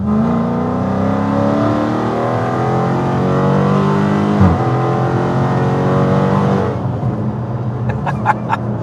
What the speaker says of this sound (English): V8, and it sounds amazing.